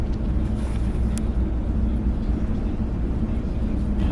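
A deep, continuous engine rumble from a BC Ferries ferry pulling away from the dock, steady and low under faint background noise, with a brief high click partway through.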